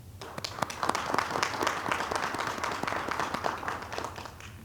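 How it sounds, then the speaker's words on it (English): Applause from an audience for the EHS team at a spring faculty and staff assembly, a steady patter of many hands clapping throughout, moderately distant and even in level. "A round of applause to them."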